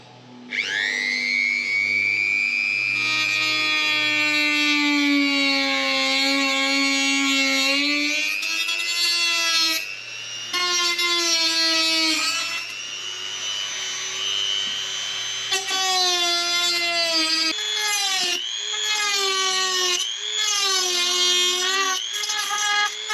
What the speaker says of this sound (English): Now I will take my rotary tool and just trim all that stuff off